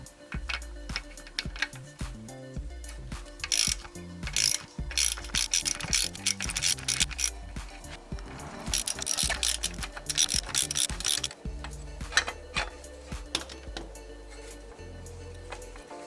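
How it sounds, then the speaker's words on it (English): A ratchet with a 13mm socket turns bracket nuts on a Ford Fiesta ST rear motor mount, giving rapid bursts of close, sharp pawl clicks with short pauses between. "we're using the exact same socket from before"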